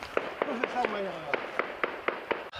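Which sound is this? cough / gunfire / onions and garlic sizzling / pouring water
gunfire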